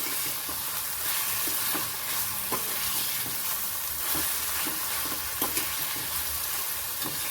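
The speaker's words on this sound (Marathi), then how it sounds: "छान हलवून घ्यायचे, मस्त असं परतून घ्यायचे त्याला." Minced meat kheema with green peas and fenugreek leaves sizzles steadily in a pan while it is stirred and sautéed, with soft scraping strokes recurring at a regular pace; no talking.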